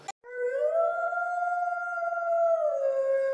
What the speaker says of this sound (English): It's that howling again.